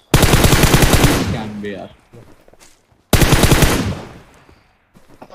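Two long, loud bursts of rapid automatic gunfire in a shooter video game, separated by a short pause, with a player talking briefly between them.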